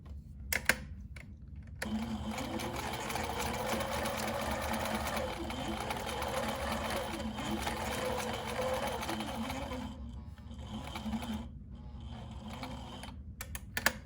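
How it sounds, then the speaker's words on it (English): A sewing machine stitches along the side of a fabric mask in one steady, close whirring run lasting about eight seconds, with a few clicks before and after. "I need to sew this side now"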